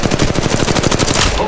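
Rapid automatic gunfire in the mobile shooter Apex Legends Mobile, a loud unbroken burst of about a dozen closely spaced shots over roughly a second and a half.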